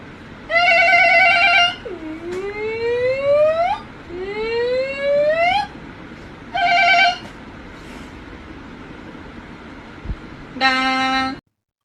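A voice imitates truck sirens, with rising wails and bursts of horn-like tones, loud and close, repeated several times.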